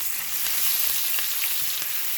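Chopped onion fries with garlic in a pan, a steady loud sizzle with occasional soft stirring clicks, no talking.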